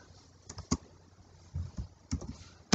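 Keys tapped on a computer keyboard while HTML tags are entered during a lesson: a few scattered clicks and short bursts of keystrokes, close and fairly quiet, with no talking.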